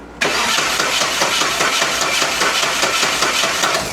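A Saab 900 Turbo engine cranks and catches with an abrupt loud onset, then runs in a steady, dense, rhythmic churn close to the listener for several seconds, with no voices.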